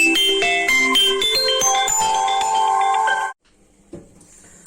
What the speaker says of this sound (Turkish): telefonu çalıyor